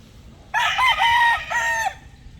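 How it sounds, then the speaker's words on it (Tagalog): A gamecock bull stag rooster crows once, close and clear, a short strained call with a brief break near the end, over faint farmyard background. "yung possum galing kay Sir Benedict Granada, bull stag na rin"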